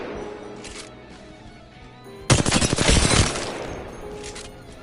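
Rapid automatic fire from an R-301 rifle in Apex Legends, a loud sustained burst of about a second with dense repeated cracks, standing out over quieter game ambience with faint distant shots before and after.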